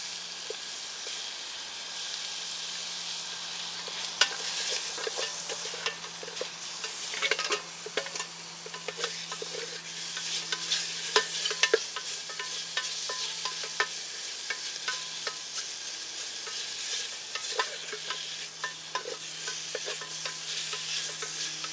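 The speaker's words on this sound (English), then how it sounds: "I'm just keeping these moving until I get a little grease in there so they don't stick" Bacon fries in a pan while being stirred, with a constant close sizzle, a faint steady hum underneath, and scattered scraping taps of a utensil.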